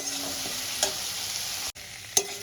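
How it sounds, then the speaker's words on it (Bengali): Pumpkin stems and potatoes sauté with spices in a pan, giving a soft continuous sizzle broken by a couple of sharp stirring scrapes and knocks. "কষাতে থাকবো ভালো করে কষিয়ে নেব"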